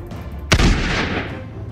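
A single loud gunshot in the video game Totally Accurate Battle Simulator, a sharp close blast with a short booming tail and no talk.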